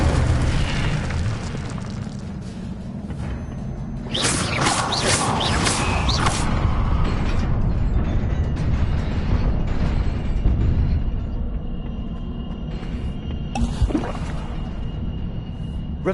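Whooshing, roaring bursts of the Incendio fire spell in Hogwarts Legacy rise over a dense, loud game soundscape, with brighter flares around the middle and a sharp pop near the end.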